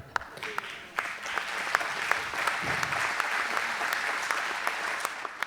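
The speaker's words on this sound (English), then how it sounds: "I knew that would be an applause line." Town hall audience in Beaver Dam breaks into steady applause, a dense wash of many hands clapping that swells after the first second and holds loud and even to the end, with a few sharper claps standing out.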